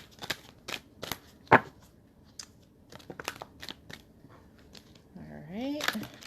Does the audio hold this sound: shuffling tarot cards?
yes